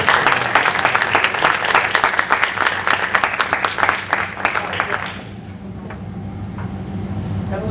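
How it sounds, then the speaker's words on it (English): A school committee meeting audience claps for a mentor honoree, a loud, dense round of applause that fades after about five seconds into quieter room murmur and scattered voices. "Give one more round of applause for Mrs. Broadus"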